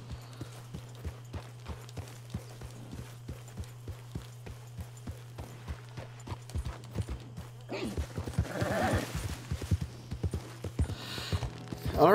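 Horses in Red Dead Redemption II clip-clop past in a steady run of hoofbeats over a constant low hum, growing busier and louder toward the end, with talk over them.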